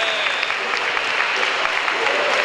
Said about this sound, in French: Et quelques applaudissements pour eux,